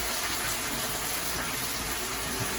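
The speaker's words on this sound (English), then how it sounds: "I'm adding the white vinegar now." White vinegar pours in a steady, even gush into a cooking pot on the stove, continuous and close for the whole stretch with no talk over it.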